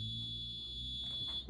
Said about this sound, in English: I have a sender in the mailbox, and when the mail comes it beeps